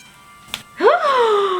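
An electric nail drill for buffing and prepping nails whirs up quickly after a light tap, settling into a steady high whine close by.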